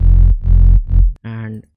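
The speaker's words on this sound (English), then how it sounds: "This is our bass sound" Punchy synth bass notes for a future rave track made in FL Studio, three loud sustained hits in rhythm followed by a brighter buzzy note, with no talking.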